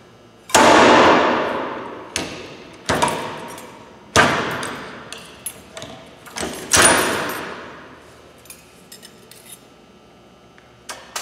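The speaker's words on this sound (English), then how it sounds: "Once the piston makes contact with your rope socket, it's going to activate, shear the pin, turn the cam against the cutter block, and cut the line." A slickline cam cutter drops onto a rope socket, shears its pin and cuts the line, heard as a series of sharp metallic clanks and snaps, each ringing and fading, several strikes at close range.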